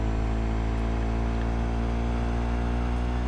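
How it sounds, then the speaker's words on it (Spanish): A motorcycle rides in the video game Cyberpunk 2077, its engine a steady, loud droning hum that holds a constant pitch throughout without any speech. "Uy, la moto."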